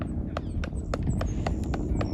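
A horse being readied for mounted archery steps along, its hooves clip-clopping in a fairly regular run of about seven close, distinct strikes over a steady low outdoor rumble.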